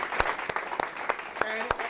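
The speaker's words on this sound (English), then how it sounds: "just give them a whole huge round of applause" Sparse, separated claps ring out at a live strategy-game event in a large venue, a few sharp hand strikes spaced apart with a faint tone and background murmur between them rather than full applause.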